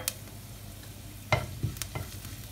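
Cumin seeds cook in hot oil in a pan for a mixed vegetable dish with a soft, quiet sizzle. A few short scraping knocks from stirring sound near the end. There is no speech.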